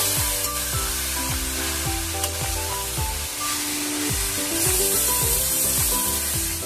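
Chicken keema and cabbage sizzle steadily in a hot pan while a spatula stirs and scrapes repeatedly against the metal, the mix of frying and rhythmic scraping close and continuous.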